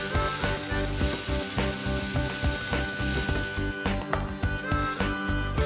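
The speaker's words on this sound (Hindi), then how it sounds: "पैन में थोड़ा ऑयल डालिए और इसमें फिर डालेंगे लिटिल बिट टोमेटो पेस्ट" Tomato paste sizzles steadily in hot oil in a pan, a dense, close frying hiss with irregular pops and scraping from stirring throughout, no voices.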